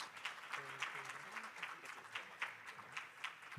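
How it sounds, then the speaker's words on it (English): Steady applause from a crowd, dense clapping holding at an even level throughout, with a few faint voices mixed in. "please give a big round of applause again"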